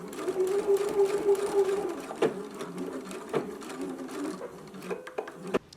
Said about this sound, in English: So we'll go to the sewing machine.